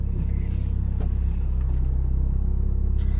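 Seen from inside a stopped car during a driving test, other cars drive past at a pedestrian crossing, giving a steady low engine rumble and road noise with a faint passing swell and no talking.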